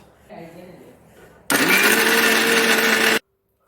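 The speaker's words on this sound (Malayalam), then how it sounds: "നമുക്കിനി ഇത് നന്നായിട്ടൊന്ന് പേസ്റ്റ് പോലെ അരച്ചെടുക്കാം" A mixer grinder whirs loudly for close to two seconds while grinding green chilies and spices into a paste for sardine kuzhambu, cutting off abruptly, after a short quieter stretch of talk.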